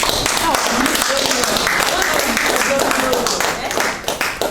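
An audience at a business opportunity expo claps steadily in a dense, continuous wash of applause that fills the whole stretch and thins slightly toward the end, with voices mixed in underneath.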